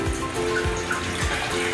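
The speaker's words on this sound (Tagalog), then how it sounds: "Lalagyan na natin siya ng tubig." Water pours steadily into melon juice in a container, a continuous splashing trickle with no talking, close by.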